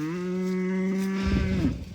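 Cows on a farm: a single long, close, loud moo that dips in pitch at the end, followed by a short rustle.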